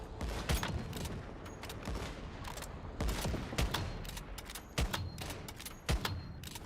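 Rapid bursts of gunfire from the survival shooter Once Human at an offshore oil derrick, with sharp loud shots every second or so over a dense, continuous background of battle noise.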